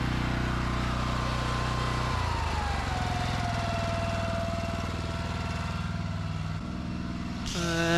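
A petrol power washer engine runs steadily at reduced revs during patio cleaning, a loud, even droning hum with a slight drop in pitch partway and a brief change near the end.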